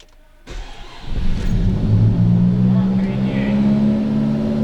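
A Nissan Primera engine is cranked and fires on its first start attempt, catching after a short burst of starter noise and settling into a steady, close, loud idle.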